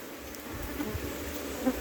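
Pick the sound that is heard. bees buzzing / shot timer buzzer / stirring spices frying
bees buzzing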